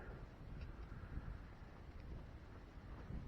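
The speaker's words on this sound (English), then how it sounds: "it's really windy today" Strong outdoor wind buffets a microphone on a building site, producing a steady low rumbling roar with uneven gusty swells and no clear speech.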